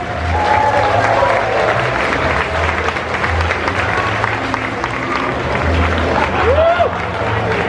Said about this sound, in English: I would like you guys to give a big round of applause to Serena Cosplay from Denmark.